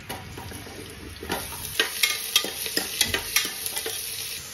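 Small chopped onions dropped into hot oil, with a steady sizzle and a run of sharper crackling bursts and stirring scrapes that grow more frequent toward the end.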